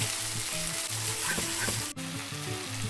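Shrimp paste and chili fry in a hot pan for a prawn and young tamarind curry, giving a close, steady sizzle with light stirring and no talk.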